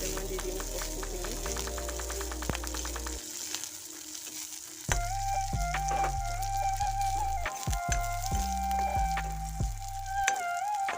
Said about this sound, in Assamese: পিঁয়াজখিনি ৰঙা হৈ যোৱাৰ পাছতে ইয়াতে মই দি দিম কচুখিনি